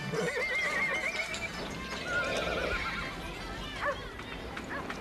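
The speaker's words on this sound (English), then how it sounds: "It's kind of fun sitting on a big white horse like Prince, ain't it, boy?" A horse whinnies several times in a 1950s western film, with clip-clop hooves and outdoor bustle underneath and a voice talking at times.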